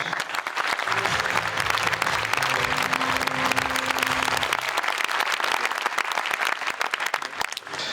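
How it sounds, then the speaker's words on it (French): A large crowd applauds an award winner at a company celebration, sustained loud clapping that fills the room, with a few voices talking underneath. "je vous demande de faire une ovation à Guillaume Ribaud de Métis Levage"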